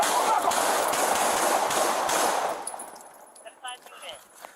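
Rapid burst of gunfire aimed at police officers during a dashcam-recorded shooting, a dense, loud crackle of repeated shots for about two seconds that then drops away to quieter scattered noises.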